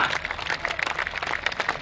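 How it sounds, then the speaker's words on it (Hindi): A crowd at a religious bhandara feast applauds Chief Minister Yogi Adityanath with brief, fairly faint rapid clapping heard from a distance. "जोरदार तालियां भाई, जोरदार तालियां।"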